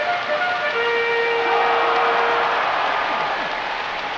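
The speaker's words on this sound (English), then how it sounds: "There's the whistle, and that's the end of the game." A referee's whistle blows to end an NFL 2K3 football game between the Green Bay Packers and Chicago Bears, a sustained tonal shrill laid over loud stadium crowd noise, with no talk.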